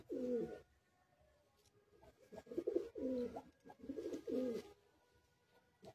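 Magnet pigeons in a loft give a series of low, rounded coos, one near call followed after a pause by several in quick succession, with no talk over them.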